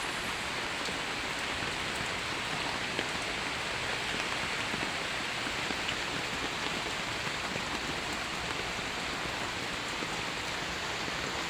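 Light rain falls steadily with a soft, even hiss, a continuous, fairly faint patter with no voices.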